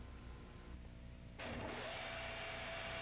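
A Davenport automatic screw machine starts up, a quiet idle hum suddenly jumping to a louder, steady mechanical whir and whine as it begins to run.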